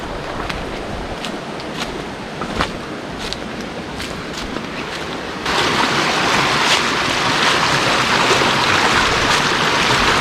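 Clear water rushing steadily along a roadside ditch, a loud broadband wash that swells fuller partway through, with a few faint clicks and no talk.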